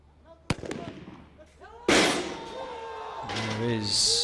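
A sniper rifle fired as single rounds at a SWAT competition gives a sharp crack, then a heavier blast that rings out over the range, with voices talking around it.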